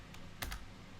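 A few quick keystrokes clack on a computer keyboard, close and crisp, with a brief cluster of clicks standing alone in a quiet room.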